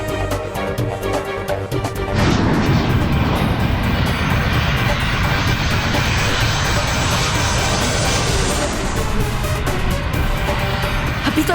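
An airplane engine roars in a TV show scene, building from a rumble into a loud sustained whine and drone that holds for several seconds before easing slightly, with no speech over it.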